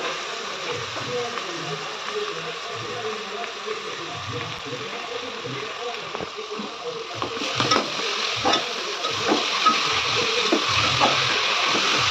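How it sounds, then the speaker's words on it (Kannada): Egg rice with carrot frying and being stirred in a pan at home, a steady soft sizzle with scraping stirs that grows a little louder and busier toward the end, with a voice talking over it. "ಇದಿವಾಗ ಚೆನ್ನಾಗಿ ಫ್ರೈ ಮಾಡ್ಕೋಬೇಕು"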